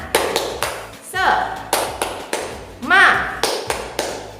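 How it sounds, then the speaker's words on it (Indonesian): A teacher leads rhythmic spirit clapping, sharp claps in a quick patterned beat, close and loud, with her voice chanting and singing along between the claps. "Wah, biar lebih semangat lagi, kita tepuk semangat ya."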